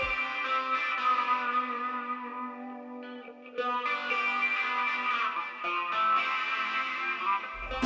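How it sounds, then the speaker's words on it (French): Distorted, effects-laden guitar from a song, a dense sustained pop mix with echo and chorus sheen, loud and continuous with a short thinner break midway. "ces effets de distorsion sur la guitare"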